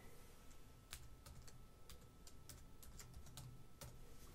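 Quick, light clicks of typing on a computer keyboard while entering setup details during an Alexa software install on a Raspberry Pi, with irregular keystrokes and a few sharper taps over a faint steady background hum.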